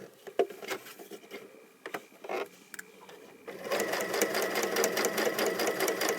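A sewing machine stitches around a satin label on a small pouch, starting with a few scattered handling taps and clicks before settling into a steady, loud, rapid mechanical whir for the last few seconds.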